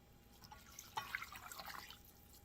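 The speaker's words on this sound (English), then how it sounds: "we're going to put in our 2 cups of water." Two cups of water poured into a bowl of playdough mixture, a soft, faint trickle and splash with a few brief droplet sounds, close and quiet with no speech.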